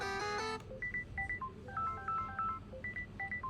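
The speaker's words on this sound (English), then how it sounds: "currently, this is my ringtone" Facebook Messenger ringtone playing on an Android phone: a short tonal chime burst, then a series of bright beeping notes in a bouncing, repeating pattern, clear and close with no voices.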